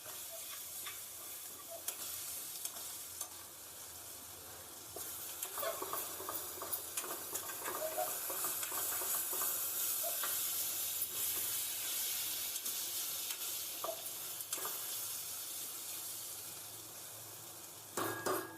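Chickpea masala sautés in a pan with a continuous hissing sizzle that swells midway, punctuated by soft clinks and stirring scrapes of a spoon against the pan, and no voices.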